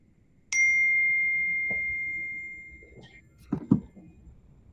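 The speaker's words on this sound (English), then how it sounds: "it's my phone and my computer bing at the same time." A phone and a computer give notification dings at the same moment: one bright, clear chime rings out and slowly fades over a couple of seconds, followed by a few soft clatters and thumps.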